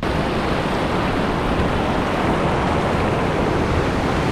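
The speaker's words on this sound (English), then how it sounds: "Look at the torrent in that. That's some power coming out of that falls there." Powerful waterfall torrent in Muskoka pouring with great force, heard as a loud, dense, unbroken roar of rushing water, close and steady with no pauses and no voices.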